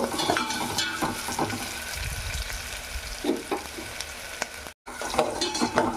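Carrot and capsicum pieces sizzle steadily in a hot pan while making vegetable lemon rice, with occasional stirring scrapes and a brief cut near the end.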